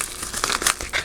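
Crinkly plastic packaging being opened around a wooden planner clip and stickers, a steady close rustle with several sharper crackling bursts over about a second, no voices.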